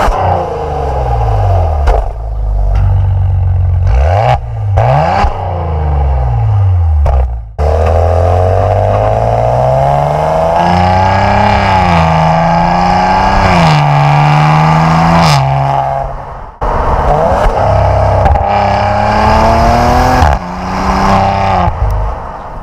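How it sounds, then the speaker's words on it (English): A 2019 Maserati Ghibli SQ4 sedan revs loudly and repeatedly, its engine note climbing and falling, with sharp exhaust pops and crackles breaking in as the throttle lifts between blips. "you can still hear a little pop, little crackle in that exhaust."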